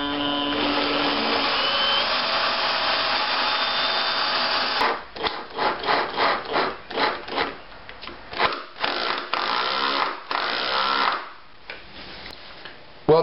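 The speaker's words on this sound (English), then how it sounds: "pre-drill before you put a screw into it, especially wood that's this hard" A drill grinds steadily into very hard wood while pre-drilling for a screw, then shifts to choppy, stuttering bursts as the screw is driven through a dining table base into the tabletop, with brief pauses between pulses.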